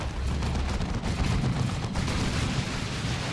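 A scouts' grenade blast in the Dawn of War 2: Retribution strategy game, with dense rumbling explosive and gunfire-like battle noise rolling continuously, loud and low-heavy, with no talk.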